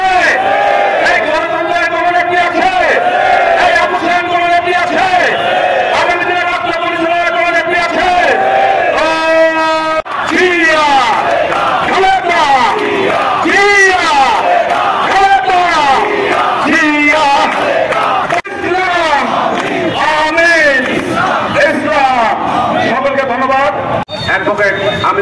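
Crowd at a BNP political protest rally in Jessore chanting slogans, a loud call-and-response of a leader's shouted lines and massed voices answering in rhythmic unison throughout.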